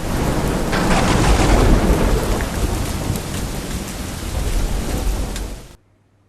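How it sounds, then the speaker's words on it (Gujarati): Heavy rain pours down steadily over Navsari city, a dense, loud roar of downpour with low rumbling throughout, continuing without pause until it cuts off abruptly near the end. "પણ ધોધમાર વરસાદ નવસારી શહેરમાં ચાલુ છે"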